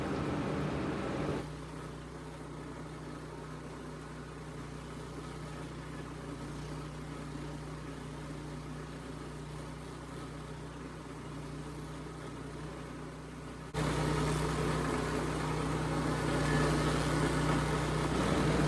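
A stump grinder's engine runs with a steady low droning hum that rises noticeably louder near the end, with no voices heard.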